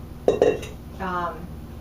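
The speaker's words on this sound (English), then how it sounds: "I want to get the excess off my spatula here" Cake batter scraped off a spatula into a skillet: two or three sharp metallic taps and clinks against the pan, then a short scraping sound, close and fairly loud.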